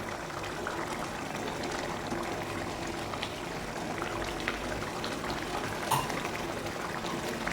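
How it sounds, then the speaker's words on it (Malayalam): Thick egg curry gravy bubbles in a pot with a steady, dense simmer that holds evenly throughout. Faint pops and a light clink break through now and then. "നല്ലതുകൂടെ ഒന്ന് തിളക്കട്ടെ"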